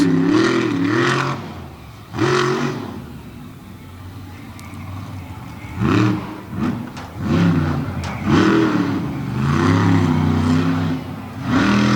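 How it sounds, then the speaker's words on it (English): The General Tire Ram monster truck drives around a freestyle course at a Lima, Ohio event, its engine roaring and revving in rising and falling surges, loud and fairly close, with an announcer talking over it. "Kurt Kramer, the General Tire Ram, working his way around the course."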